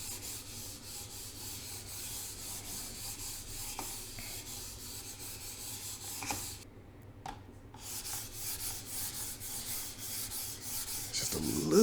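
Mouse on TJX plastic skates sliding across a Pulsar Superglide 2 glass mousepad, a continuous close gritty rubbing scrape like sandpaper with one short pause midway, with no talking.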